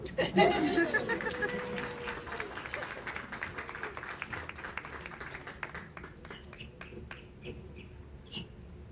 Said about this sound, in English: Sometimes people clap.